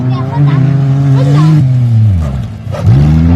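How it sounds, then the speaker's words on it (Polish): A Fiat Cinquecento drives past close by, its engine note rising and falling over a few seconds, with someone talking loudly over it throughout. "A, Cinquecento jedzie, patrz."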